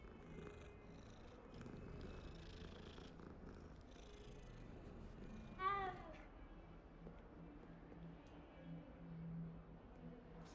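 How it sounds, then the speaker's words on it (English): Cats purring while being petted in the video game Hogwarts Legacy, a soft low continuous rumble, quiet and close, with a brief louder meow-like cry near the middle. "You can pet the kitties in this game."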